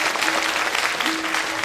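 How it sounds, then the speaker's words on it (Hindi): A crowd gives a loud, dense burst of applause just before a stage play, Ardhnarishwar, begins. The clapping is steady and sustained throughout. "सब तैयार हैं? जोरदार तालियां।"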